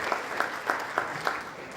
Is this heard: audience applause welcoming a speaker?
yes